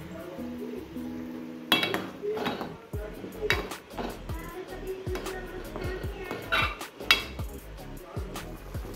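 Amla, turmeric, salt and rasam powder go into a cooking pot with water, bringing a scattered series of metallic clinks, taps and clatters of spoons and utensils against the pot, close and fairly quiet.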